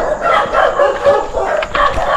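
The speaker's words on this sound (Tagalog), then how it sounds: "There are dogs na here." Several dogs bark repeatedly near a cemetery road in Cavite, loud and close, in uneven overlapping bursts.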